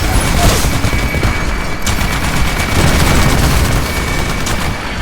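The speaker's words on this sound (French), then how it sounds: "Le collecteur essuie des tirs." Sustained gunfire fills a Titanfall battle, with dense rapid bursts, booms and automatic fire rattling continuously at a loud, steady level, no pauses.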